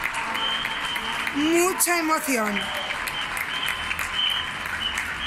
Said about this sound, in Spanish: Todos aplaudiendo.